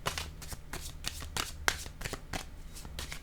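A deck of cards is shuffled by hand during a French-language card reading, making a steady run of crisp riffling flutters close by, with no talk.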